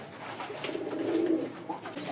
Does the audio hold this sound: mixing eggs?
no